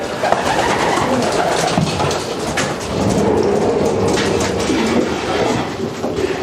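Racing pigeons coo in a loft, soft overlapping throaty calls rising and falling over a dense, steady background noise, several birds close by.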